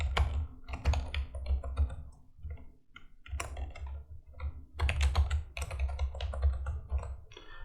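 Someone types a password on a computer keyboard, producing close, brisk bursts of key clicks with short pauses between runs, heard alone without talk.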